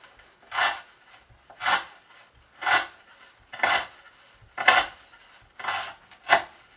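A Zero Tolerance 0301 knife with an S30V steel recurve blade saws through rope in seven steady rasping strokes, each a loud fibrous scrape about a second apart, close up with no talking.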